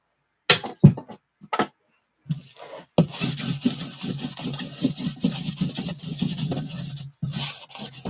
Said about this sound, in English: Let me quickly clean off the table. Get all the card shavings out of here.